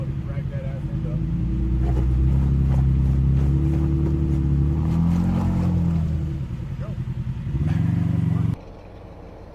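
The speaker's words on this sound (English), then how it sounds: "the scrambler that Chuck's driving there kind of walks right up it, gets through all the mud" Off-road scrambler climbing a steep muddy hill in Texas, its engine droning and revving loudly and close throughout, with voices talking over it before the sound drops abruptly near the end.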